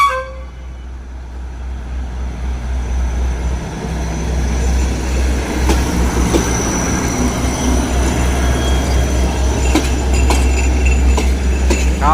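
A Daewoo diesel railcar rumbles loudly as it pulls away from Bangkok's Hua Lamphong station, engine drone building steadily, with wheel squeals and a brief horn toot near the end.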